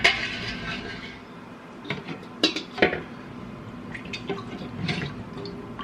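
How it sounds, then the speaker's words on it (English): Leftover chicken soup liquid is poured and ladled into canning jars, giving soft splashing and dripping with several sharp clinks of glass and utensils, fairly quiet and close. "And then we'll top it off with the remaining liquid."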